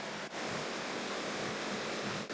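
A river flows steadily nearby, a dense continuous rush of water with no voices, briefly dipping twice as if the sound is momentarily interrupted.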